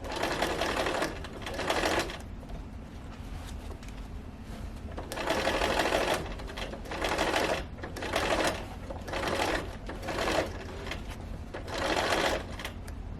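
Sewing machine stitching a sofa slipcover body along pinned seams, running in repeated short bursts with brief stops between as fabric is shifted, close and steady.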